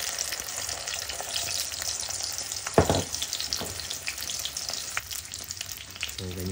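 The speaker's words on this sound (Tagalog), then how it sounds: "Pagkatapos yan iprito na natin." Eggplant omelette (tortang talong) frying in a pan, a steady close crackling sizzle with a few louder pops and scrapes, no one talking.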